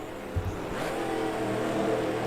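Race car engines rev and drone continuously on a track in a racing video game, a loud sustained blend of several motors with no talk over them.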